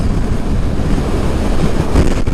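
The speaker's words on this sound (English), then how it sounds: "There's a big gust of wind from that wagon just hit me." Strong wind buffets the microphone in a continuous rushing roar that swells briefly near the end as a passing truck blasts by on a Peak District road.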